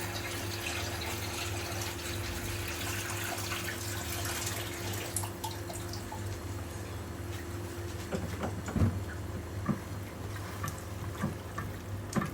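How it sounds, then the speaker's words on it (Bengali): Water poured into a cooking pot of chicken and potatoes, a steady rushing, splashing stream that runs close and fairly loud through the whole stretch with a few sharper splashes near the end. "এখানে একটু হাত ধোয়া পানি দিয়ে দিলাম।"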